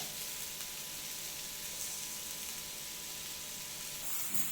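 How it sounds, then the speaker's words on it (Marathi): Masala with tomatoes and coriander roasting in a pan for green chickpea usal, giving a steady, close sizzle that holds evenly throughout with no voices. "या सगळ्या गोष्टी चांगल्या एकत्र खरपूस भाजून घ्यायचे आहेत आपल्याला"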